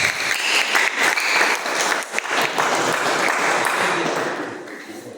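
A church congregation claps steadily and loudly for about five seconds, a dense wash of many hands with no talk over it, swelling slightly and then tapering near the end.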